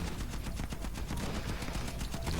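Rapid bursts of automatic gunfire crackle continuously, dense and loud, like a sustained firefight in the PC shooter game Warface.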